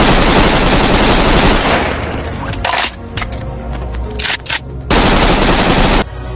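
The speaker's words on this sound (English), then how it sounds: "The third way is you use AK-47" AK-47 automatic fire in a video game, loud sustained bursts that cut off into short gaps with scattered single shots, then a further long burst.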